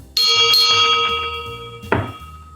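A single bright strike of a bell used as a train sound effect, ringing out, followed by a second duller knock and clang near the end.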